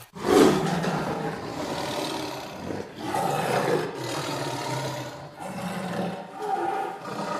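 A hungry cartoon tiger roars in a long, rough, rumbling growl that swells and recedes over several seconds, loud and close with no talk over it.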